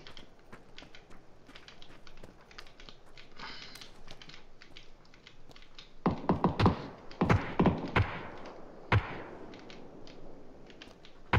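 Video game gunfire, sharp distant shots cracking sporadically and then in a louder cluster of bursts, with no talking over them.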